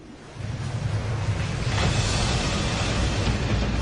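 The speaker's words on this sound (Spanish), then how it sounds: "Solo algunas olas bastan para aplastar al modelo." Waves crash over a scale model of a fishing boat during a wave-tank test, a loud, steady roar of surging water that swells after the first moment and keeps rushing with no pauses.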